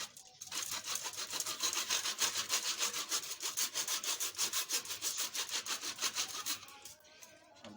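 A hand saw cuts through wood to make sticks for birds, a steady, close back-and-forth rasping in quick regular strokes that runs for several seconds before trailing off into quieter handling noise.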